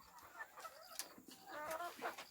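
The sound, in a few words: Hunali golden chickens clucking on a farm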